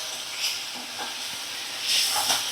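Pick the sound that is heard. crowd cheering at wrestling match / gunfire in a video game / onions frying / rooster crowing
onions frying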